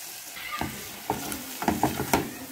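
Flour stirred and fried in a pan as the base of a béchamel, a low sizzle under repeated scraping strokes of a utensil, several quick clustered stirs near the end, close and with no talk.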